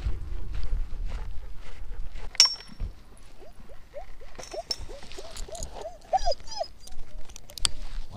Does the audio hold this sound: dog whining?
yes